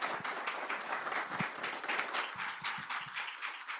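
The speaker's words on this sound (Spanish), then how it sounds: "pedirle al foro un fuerte aplauso para recibir su participación" An audience at a forum on gender, migration, science and art applauds to welcome a speaker, a moderately distant round of many hands clapping that continues steadily throughout.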